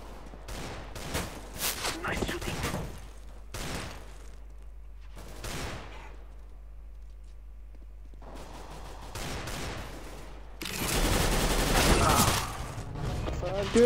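Galil AR gunfire in a Counter-Strike: Global Offensive deathmatch, with several short bursts of rapid shots spread across the clip and a long loud volley near the end, with a voice talking briefly at one point.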